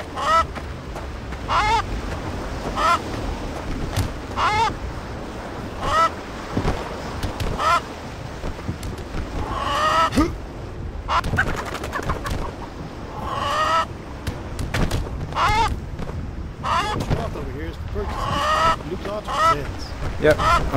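Chicken clucking and squawking from Blade and Sorcery, a string of short bursts scattered through the clip among other game noise, with some spoken voice mixed in.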